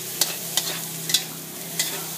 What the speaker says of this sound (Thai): นี่ก็ดับแก๊ส แล้วก็คน แก๊สแล้วคน